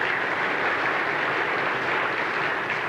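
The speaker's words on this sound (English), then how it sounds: "Let's give him a round of applause" Sustained applause from an audience honoring speaker John Ross at a gathering of publicans in Hawaii, a steady dense patter with no voices over it.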